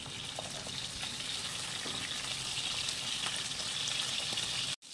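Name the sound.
hilsa fish heads frying in mustard oil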